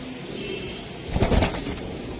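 A silver racing pigeon, a club-raced bird, gives low cooing calls up close, with a brief louder fluttering burst midway and no speech.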